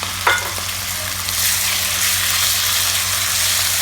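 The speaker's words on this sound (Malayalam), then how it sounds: "ഇത് കളറൊന്ന് ചേഞ്ചായി വരുന്ന വരെ ഇതൊന്ന് ഫ്രൈ ചെയ്യണം." Chicken pieces frying in oil with garlic in a pan give a steady, close, dense sizzle that swells slightly louder partway through, with a faint stir at the start and no talk.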